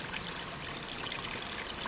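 Rainwater trickles out through a concrete pipe, a steady, close, continuous splashing flow with no pauses.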